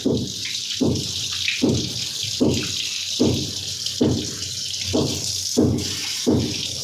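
Goat meat being rinsed under a running kitchen tap while cooking a goat spleen dish, with water splashing in regular surges about once a second as the pieces are turned under the stream, close by and with no talking.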